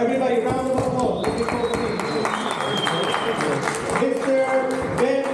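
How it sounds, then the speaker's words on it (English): An audience applauds a graduate called to the stage at a Siyum Mesechta celebration, the clapping mixed with people talking throughout the hall. "Everybody, round of applause."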